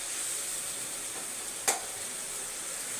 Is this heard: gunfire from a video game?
no